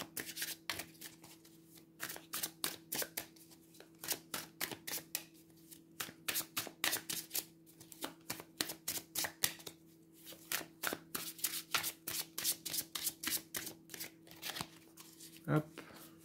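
A deck of cards is shuffled for a tarot-style reading, a long run of quick, crisp riffling bursts repeated in steady rhythm close to the microphone, with a quiet voice in the background.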